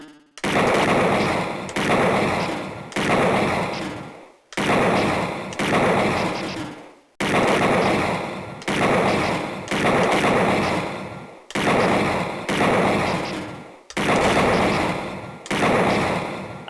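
A steady series of loud, evenly spaced blaster shots in Snatcher, set in Neo Kobe City, each a harsh burst with a decaying tail, firing one after another without pause.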